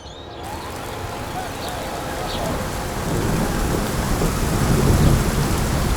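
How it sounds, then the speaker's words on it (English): Light rain begins falling outdoors, a broad rushing hiss that grows steadily louder, mixed with low rumbling outdoor noise. "It's just started spitting with rain, which is fairly annoying"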